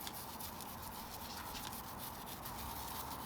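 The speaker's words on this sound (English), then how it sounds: "Gone over it all again with the toothbrush now." A toothbrush scrubbing a motorcycle chain, a steady close-up bristly rasping that continues evenly without pause or voices.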